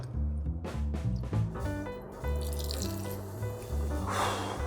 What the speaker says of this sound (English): top it off with some tonic water